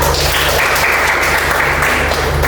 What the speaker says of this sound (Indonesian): Tepuk tangan kepada Dila